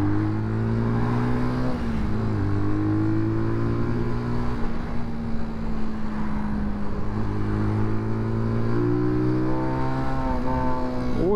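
A Benelli Leoncino motorcycle revs close to the listener, its engine pitch climbing and falling through repeated sweeps. A buzzing resonance from some loose metal or plastic part shows up near 7500 rpm.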